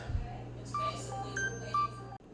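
Short telephone tones from an incoming call chirp at intervals over a steady low electrical hum in a home kitchen where meatloaf is being made, ending in an abrupt cutoff.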